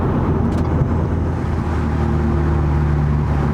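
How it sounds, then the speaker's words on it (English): A tuned 300 hp turbocharged Audi A4 engine drones steadily at close range, a continuous low rumble with a faint airy intake whoosh layered over it. "When it pulls, you get the sucking sound of the intake. I got my blow-off valve, I got my exhaust."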